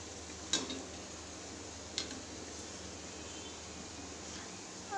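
Donut frying in oil over a slow flame, a steady low sizzle throughout with a couple of brief clinks of a utensil against the pan.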